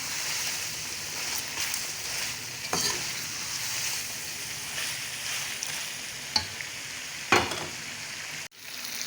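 Quail with cumin, coriander and pepper frying in a karahi gives a steady, close sizzle throughout, with a few sharp clinks of a stirring utensil and a sudden stop near the end.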